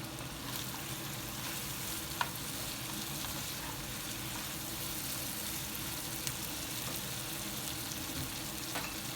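Village-style spicy chicken curry sizzles steadily with garam masala and other spices in a pan, a constant close frying hiss with a few faint clinks of stirring.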